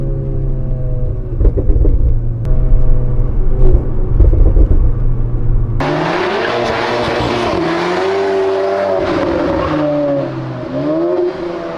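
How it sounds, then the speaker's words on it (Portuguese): An Audi A3 stage 2 with a sport exhaust roars loudly and continuously under acceleration, its deep drone climbing in pitch and then jumping to a harsher, raspier tone as the revs rise further. "um escape feito exatamente para gerar potência e um ronco bonito"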